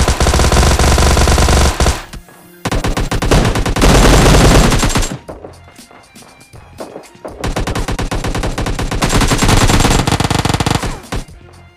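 AKM assault rifle sprays in a mobile shooter game: loud, dense full-auto bursts, one long stream broken by a brief pause, then a quieter gap before another sustained volley near the end.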